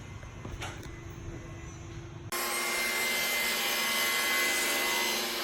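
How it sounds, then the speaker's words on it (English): A table saw set to cut halfway through oak plywood makes relief cuts: a steady, loud broadband roar suddenly kicks in midway and holds without pause after a quieter ambient stretch. "he set the table saw to go about halfway through the wood, and he's making a lot of relief cuts behind the wood"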